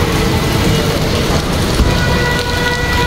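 Hail and heavy rain fall in Peshawar, a dense, loud, continuous patter and hiss that stays steady throughout with no talking.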